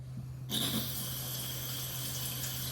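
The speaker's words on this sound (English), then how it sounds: "Wash the carrots." Tap water starts suddenly and runs steadily into a kitchen sink while carrots are washed, a close, continuous hiss over a low hum.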